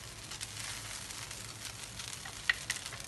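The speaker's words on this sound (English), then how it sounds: "So we pan fry again." Steady sizzling of vegetarian fried rice pan-frying, a continuous hiss with a few sharper crackles near the end, close and moderately quiet.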